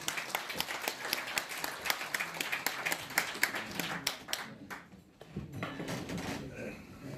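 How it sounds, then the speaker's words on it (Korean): An audience at a public lecture hall applauds as a former unification minister is welcomed to the stage: brisk, crisp clapping for about five seconds that then dies away, with a few stray claps and room noise after. "큰 박수로 환영해 주십시오."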